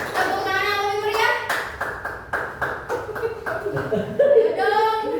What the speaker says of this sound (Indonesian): Tepuk tangan yang lebih meriah.